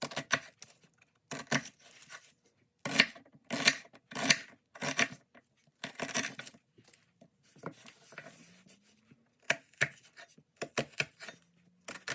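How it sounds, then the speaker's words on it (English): Onions being cut with a knife for chorizo con papas, heard as irregular bursts of chopping taps on a board with pauses between, fairly close and with no talk. "we'll go ahead and cut up our onions"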